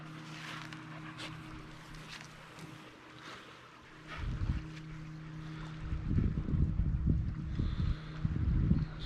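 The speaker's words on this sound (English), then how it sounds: "Boat just coming down the loch there" Small speedboat motoring along a Scottish loch, a steady low engine drone in the distance with gusts of wind noise and louder rumbling bursts toward the end.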